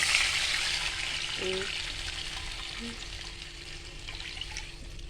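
Water poured into a hot pan already holding cumin and chili flakes, for rava burger, sets off a loud, steady sizzling hiss with a few brief utensil clinks near the start.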